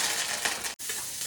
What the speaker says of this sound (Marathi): कढीपत्ता टाकत आहे